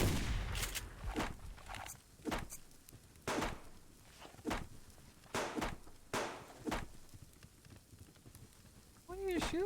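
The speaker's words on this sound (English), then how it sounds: "What are you shooting at?" Gunshots ring out in a cave-dwelling video game, several sharp cracks at irregular intervals mixed with footstep-like thuds, moderately loud, with voices talking over parts of it.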